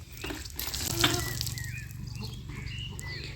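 Water splashes and pours as a buffalo calf is bathed in a village yard, a soft steady wash of flowing water with birds chirping faintly in the background.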